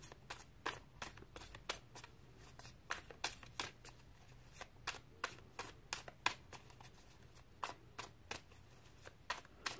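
Tarot cards being shuffled by hand, a brisk run of crisp riffling snaps and slaps in an uneven rhythm, close and fairly quiet with nothing else over it.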